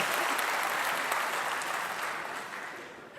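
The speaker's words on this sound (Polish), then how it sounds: "Proszę brawa." A stand-up comedy audience applauds on cue, a dense, even wash of many hands clapping at moderate distance. It holds steady and fades slightly toward the end with no talk over it.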